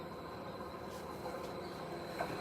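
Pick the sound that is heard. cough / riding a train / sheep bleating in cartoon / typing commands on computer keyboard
riding a train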